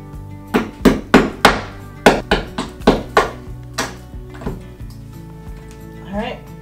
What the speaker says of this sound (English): I'm gonna get a hammer and see if I can just knock it out